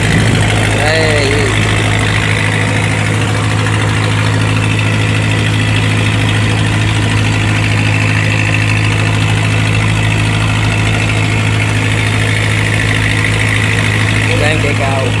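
Loud, steady diesel drone of a small motor boat cruising on a bay in Kien Giang, Vietnam, throbbing low and constant throughout, heard close on board with people talking under it.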